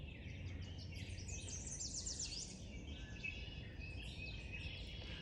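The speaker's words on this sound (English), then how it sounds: "just listen to the birds." Several birds sing and chirp outdoors in the morning, with bright overlapping calls over a soft, steady background hum, moderately near and continuous with no talk.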